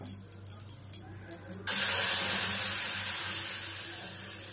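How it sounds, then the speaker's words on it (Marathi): Milk poured into a pan (kadhai) for rice kheer, a steady loud liquid gush starting abruptly after a quieter opening and slowly tapering, close by. "पहिलं दूध घालूया."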